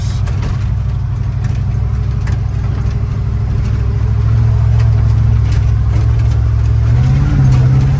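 A $500 Chevrolet squarebody 4x4 shortbed truck driving in four-wheel drive, its engine a loud steady low rumble that rises slightly in pitch toward the end, heard from up close with no talking.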